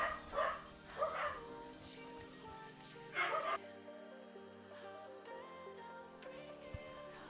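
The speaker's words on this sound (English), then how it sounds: "my dogs are barking" Pet dogs bark indoors in a few short bursts, fairly faint, over a quiet background with a soft steady tone.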